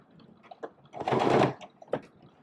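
Sewing machine stitching a small seam on baby booties, a short burst of rapid mechanical whirring lasting about half a second, framed by faint clicks and handling taps.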